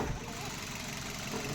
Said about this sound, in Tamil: இன்ஜின் ரன்னிங்கில் இருக்குது.